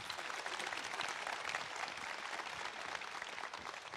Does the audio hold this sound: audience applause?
yes